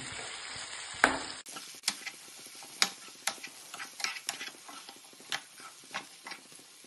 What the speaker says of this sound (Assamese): ধুনীয়াকৈ মিক্স কৰি দিম।